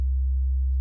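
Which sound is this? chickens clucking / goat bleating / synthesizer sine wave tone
synthesizer sine wave tone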